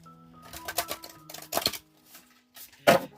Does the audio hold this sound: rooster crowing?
no